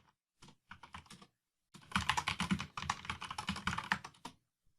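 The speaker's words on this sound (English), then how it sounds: "So I typed in my email and let's the password we just had" Close-up computer keyboard typing as an email and password are entered: a few short bursts of keystrokes, a pause, then a dense rapid run of clicking keys that trails off into a final tap.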